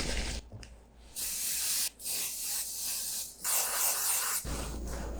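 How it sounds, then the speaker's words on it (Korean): Hair spray hisses out of an aerosol can in several bursts of varying length, close and fairly loud, with short pauses between sprays during a hair-styling routine. "스프레이를"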